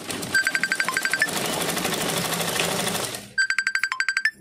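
A sewing machine stitches blouse fabric in quick, evenly spaced mechanical bursts. The rhythmic stitching pauses for about two seconds of broad whirring noise and then starts again with the same rapid rhythm.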